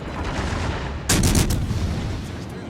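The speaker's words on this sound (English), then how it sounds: "I'm going to take some damage here from their salvo." Naval gun salvo in the World of Warships: Legends game, with the Prinz Eugen in battle: a sudden loud burst of blasts with a rumbling tail over steady battle noise, no talk.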